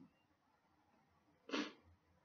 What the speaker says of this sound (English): Uh-oh, another sneeze.